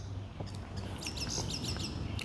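An outdoor bird chirps in a quick run of high tweets, moderately near, over a steady background hum, with no talking.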